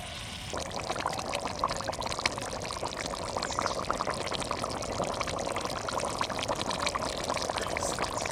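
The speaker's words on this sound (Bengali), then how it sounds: "হ্যাঁ জল দিয়ে দিচ্ছি অল্প" A little water poured into a pan of rohu fish curry, a steady rushing splash that starts abruptly and continues evenly for several seconds, close up.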